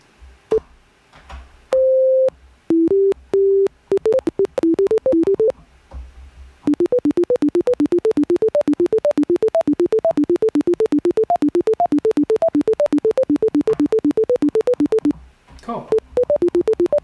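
Monophonic synthesized tones triggered by MIDI in ChucK: clean, beep-like single notes, first a few isolated pitches, then a long rapid run of alternating notes played one at a time.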